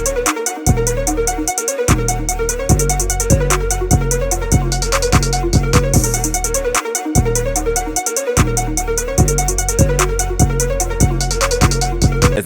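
A recreated trap drum beat, with a booming 808 bass, rapid rolling hi-hats, a sharp clap and a simple open hat, looping steadily and loud with brief gaps where the 808 drops out.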